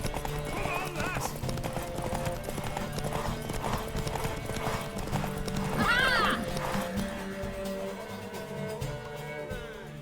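Hooves clop on the ground in The Witcher 3 as a mare runs, with a clear neighing whinny partway through, all under background game music and voices talking.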